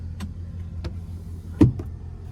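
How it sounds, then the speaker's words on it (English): The power sliding rear window of a 2024 GMC Sierra 1500 Denali Reserve pickup runs in the cab, a low motor hum under a steady idle with a few soft clicks and a firmer thunk midway. "there's our power sliding rear window"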